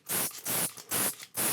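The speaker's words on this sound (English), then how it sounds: "So guys, we're spraying bleach." Bleach mold cleaner is sprayed onto a bathroom surface in four quick, evenly spaced hissing bursts, close and crisp, with short pauses between them.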